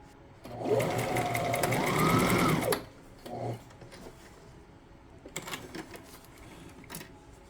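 A sewing machine stitches panels of a two-tone flared skirt together in one steady, loud run of about two seconds, its motor pitch rising slightly before stopping, followed by quieter handling sounds.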